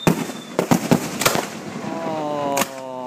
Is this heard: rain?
no